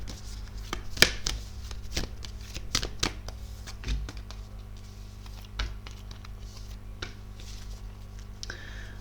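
Tarot cards being shuffled and laid out for a reading, with soft irregular riffles, taps and flicks close by over a quiet background.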